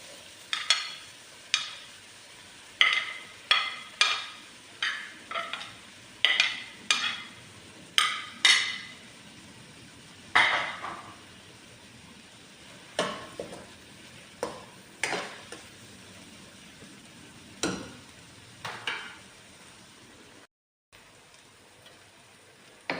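Onion stalks sizzle in a hot pan while a spatula stirs them, the scraping strokes landing as regular, fairly close clinks and scrapes over a soft frying hiss, with a brief dropout near the end.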